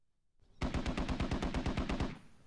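A rapid automatic burst of about fifteen evenly spaced shots in the military shooter Squad, loud and close, starting after a brief quiet lead-in and ending abruptly.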